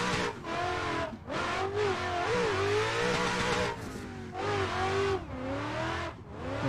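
A Ford Mustang RTR drift car at Lime Rock Park in a racing game revs hard in repeated surges, its pitch climbing and dropping with short lifts between pulls, loud and close with tire noise and no talk.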